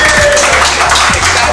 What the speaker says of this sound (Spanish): lo cual celebramos con un nuevo aplauso